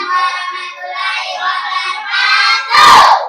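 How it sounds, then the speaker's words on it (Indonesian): Classroom students cheer together, a loud crowd of young voices shouting, swelling and ending in a sharper burst near the end. "Yang lain tepuk tangan dulu untuk kelompok 2."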